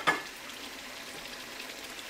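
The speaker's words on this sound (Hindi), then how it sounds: "अब हमने इसमें साबुत मसाले डाल देने हैं।" Whole spices (cinnamon stick, green cardamom, cloves, caraway seeds) dropped into chicken frying for Mughlai biryani, a brief soft clatter followed by a quiet steady sizzle.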